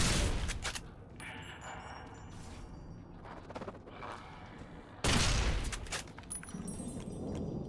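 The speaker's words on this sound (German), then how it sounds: "Erster Schuss ging daneben, weil ich ausweichen wollte." Gunfire in the video game Fallout New Vegas: a sharp shot with a ringing tail, a lull with scattered metallic noises, then a second louder blast of fire.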